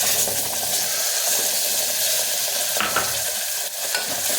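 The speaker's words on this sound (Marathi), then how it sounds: "आता यामध्ये टोमॅटोची ग्रेव्ही टाकून घ्यायची." Tomato gravy sizzles and fries steadily in a hot pan while being stirred, a loud continuous hiss with scraping stir strokes throughout, no talking.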